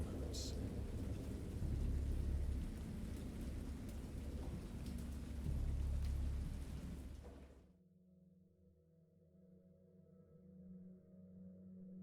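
Video game thunderstorm: heavy rain pours with a deep rumble of thunder, then cuts off abruptly to a quiet low hum.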